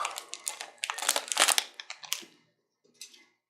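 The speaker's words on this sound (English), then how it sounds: "There is no nice way to open these packages." Crinkly plastic wrapper of an Amonkhet trading card booster pack being torn open by hand, a close run of sharp crackling crunches for about two seconds, then a brief last rustle after a pause.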